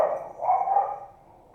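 A single dog gives a muffled, drawn-out bark or woof, fairly close, fading out afterward with no speech.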